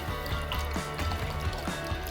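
Chicken broth is poured over brisket topped with onion, making a steady, gentle liquid trickle and splash close by, with soft dripping throughout and no talk.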